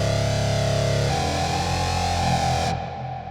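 A synth tone played through a Line 6 POD HD Pro with only the analog flanger engaged, a sustained distorted chord that shifts notes once and then fades out, loud and alone.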